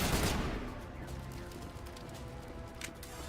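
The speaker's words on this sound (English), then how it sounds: "Oh, they're shooting." Gunfire in a video game, a fairly faint, steady crackle of distant shots under ambient game sound, with one sharper burst near the end.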